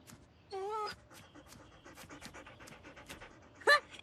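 A cartoon dog named Patapouf pants in a quick rhythmic burst, followed by a sharp yelp-like sound near the end, over a quiet market-stall background.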